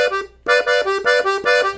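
A piano accordion runs through a forró groove at a quicker tempo, short punchy reed chords repeating in a tight syncopated rhythm after a brief pause, close and full.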